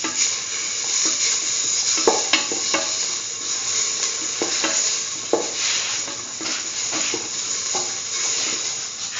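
Chili powder is stirred and sautéed in a hot pan, giving a continuous sizzle broken by repeated scraping strokes of a utensil against the pan.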